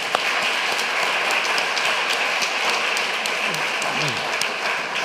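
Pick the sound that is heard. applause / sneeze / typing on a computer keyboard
applause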